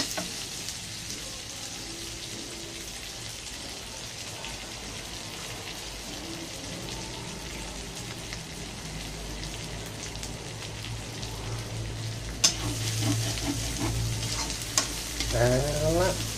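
Garlic and another ingredient stir-fried in a pan for a Thai pork belly and basil dish, giving a steady rain-like sizzle with scraping stirs. The sizzle grows louder and busier toward the end, with no talking.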